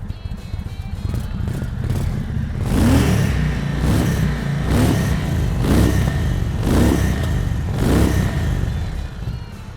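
A 2022 Indian Super Chief motorcycle engine on stock exhaust idles with a low, steady rumble, then rises into several rhythmic revs that swell and fall at regular intervals, close and fairly loud.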